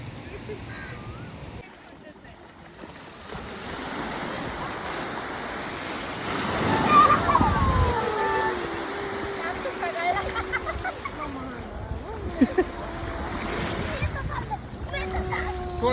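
Seashore surf and wind fill the air: waves wash and splash in a continuous roar that swells midway, with buffeting wind noise against the microphone and voices talking over it.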